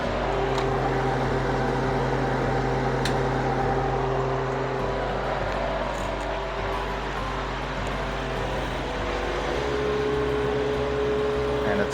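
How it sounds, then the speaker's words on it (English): A freeze dryer's vacuum pump runs with a loud, steady mechanical hum and drone, continuous and close throughout, with no pauses or changes in pitch. "And we have to turn the vacuum pump on down here."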